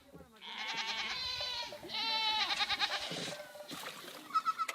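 Hungry, thirsty goats bleat loudly and repeatedly at close range, a dense overlapping chorus of calls at a pool of water dug from a dry riverbed, with faint splashing underneath.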